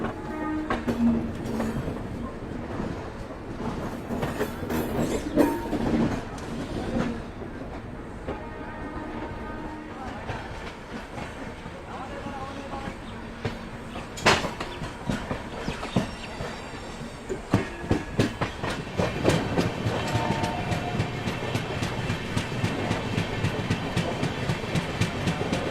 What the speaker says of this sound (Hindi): यहाँ देखिए लोकल ट्रेन के साथ पैरेलल डिपार्चर